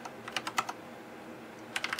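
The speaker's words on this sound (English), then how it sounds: "You can also get this from typing this command." Typing on a computer keyboard, a quiet run of crisp key clicks in two short bursts separated by a pause, close and alone without talk.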